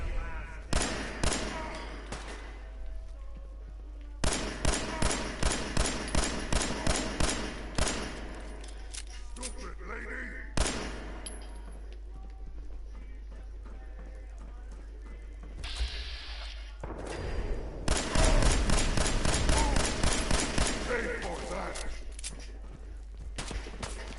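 Gunfire in a Fallout-style open-world shooter game, with rapid bursts of shots recurring across the span, loud and up close, interleaved with quieter stretches and some other game noise.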